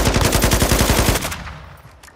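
A rapid, loud, evenly spaced burst of automatic gunfire in Call of Duty Warzone 2 Resurgence duos lasts about a second, then fades into a decaying echo.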